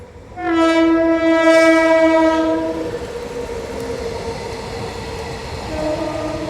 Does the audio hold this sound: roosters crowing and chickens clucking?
no